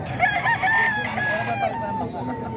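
A rooster, a gamecock at a cockfighting bird market in Bocaue, crows in a long, drawn-out call over a steady background hum of farm noise.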